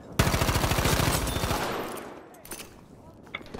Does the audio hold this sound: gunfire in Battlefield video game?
yes